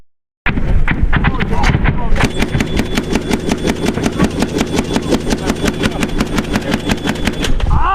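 U.S. Marines fire an Mk-19 grenade launcher in sustained rapid bursts, loud and close, each round a regular thumping report in a steady mechanical rhythm.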